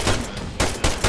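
Gunfire in the military game Arma 3: loud, sharp bursts of shots crack out in three quick clusters against a steady noisy backdrop, with no talking.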